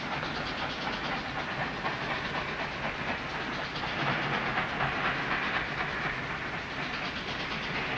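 A steam train rolls past with a steady rhythmic clickety-clack over a broad hiss of steam, loud and continuous throughout, in a Civil War film scene.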